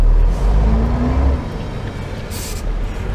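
A truck with a trailer driving through Chelyabinsk, a loud low engine rumble that eases off after a second, a short hiss of air later, steady road noise throughout.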